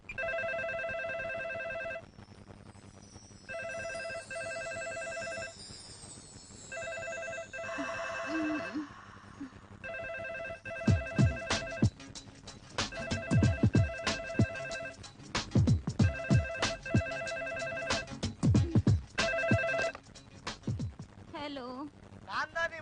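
A telephone ringing in repeated electronic bursts with short pauses between them, clear and steady at first, then carrying on under conversation and occasional knocks as people talk.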